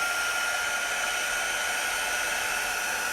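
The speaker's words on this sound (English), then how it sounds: "Always remember when you're drying to keep your heat gun or your hair dryer, whichever you have handy, away from the transfer" A hair dryer or heat gun blows steadily on a chalk transfer, a loud, continuous airy whir that holds constant from start to finish with no talking.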